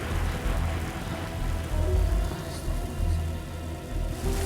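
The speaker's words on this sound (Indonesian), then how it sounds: "Hujan." Steady rain falls and patters on surfaces, a dense, continuous hiss with low rumbling underneath and no voices.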